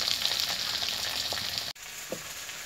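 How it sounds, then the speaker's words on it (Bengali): Potato and pumpkin pieces fry in oil in a pan, giving a steady, close sizzle with a few soft stirring knocks and a brief break partway through. "আলু কুমড়োটা দেখুন আমার হালকা করে ভাজা হয়ে গেছে।"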